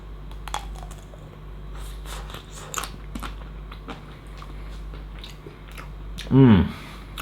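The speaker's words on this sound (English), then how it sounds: "Let's go ahead and take a bite." Biting into a Magnum Double Caramel ice cream bar: a single crisp crack of the chocolate shell, close and loud, lands near the end amid faint background sounds.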